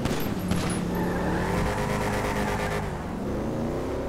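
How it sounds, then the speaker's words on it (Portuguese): A car in GTA 5 accelerates loudly and steadily, its engine tone climbing through the gears as revving rises and shifts, with no talk over it. "esse carro aqui pega muito devagar pra pegar a velocidade"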